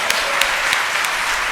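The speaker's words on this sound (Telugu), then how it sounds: "చప్పట్లు కొట్టకపోయారా?" A church congregation at a Hosanna Ministries service claps in a loose, even rhythm, a row of sharp hand claps roughly three per second over a steady room murmur.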